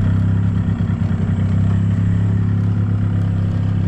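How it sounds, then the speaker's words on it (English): An old farm tractor engine idles with a steady low chugging beat and a brief clattery rev, loud and close, on a blueberry farm with a 9N, New Holland TC33 and Allis-Chalmers G tractors. "And tractor ready to go."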